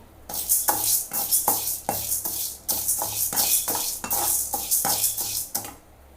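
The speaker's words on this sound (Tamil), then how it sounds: "நம்ம தனித்தனியாக ஒன்று ஒன்றா போட்டு வறுத்து எடுத்துக்கலாம் இப்போ துவரம் பருப்பு போட்டிருக்கேன்" About 100 grams of toor dal is dry-roasted in a pan and stirred with a metal utensil. Loud, close scraping and rattling strokes repeat in a steady rhythm about once a second, with a faint sizzle underneath.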